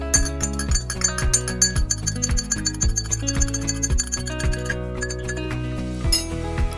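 A spoon stirs vinegar in a glass, clinking rapidly and repeatedly against the sides in a steady, bright ringing patter that continues throughout without voices.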